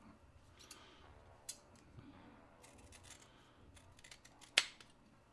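Serrated shears cut leather in faint, close, scattered snips with one sharper crisp cut near the end, over a quiet background.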